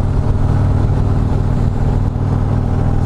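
A loud, steady Harley-Davidson Street Glide Special engine running close by, a deep continuous rumble with no pauses.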